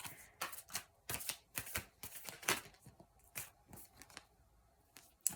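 Oracle cards are shuffled by hand in a steady series of crisp, riffling flutters and soft taps, close and quiet, with no voices.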